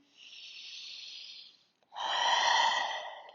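Deep breathing during a quick daily stretching routine: a long, steady inhale followed by a short pause, then a louder, fuller exhale, close and alone with no talk.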